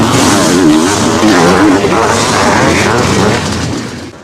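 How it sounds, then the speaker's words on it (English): Loud roar of 125cc and 500cc motocross bikes launching together from the start of a 1989 Motocross des Nations race, a dense blend of revving two-stroke engines that holds steady before tapering off at the end. "125 and 500cc bikes blast off together into the first bend"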